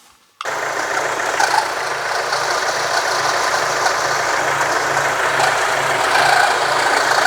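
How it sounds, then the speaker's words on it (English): A Mercedes CLS engine, leaking water from a faulty water pump, starts abruptly and then settles into a steady, loud idle with a constant low rumble and hiss, no voices. "I will start the engine so we can see how it behaves"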